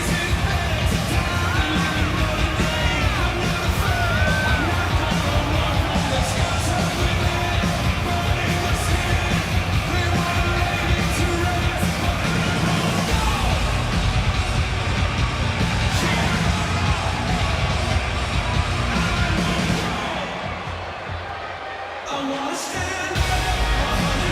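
A virtual wrestling arena crowd in a CAW wrestling video game yells continuously, a loud, dense wash of shouting that dips briefly near the end before picking back up.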